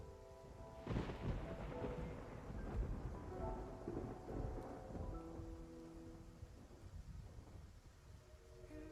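In a video game, a storm at sea rumbles with a heavy thunder crack followed by rolling low rumble over steady rain and wind, with tonal music faintly underneath.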